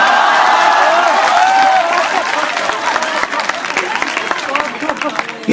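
Audience applause at a Hindi comedy poetry gathering, a dense, steady wash of many hands clapping that carries on for several seconds under a man's continuous speech.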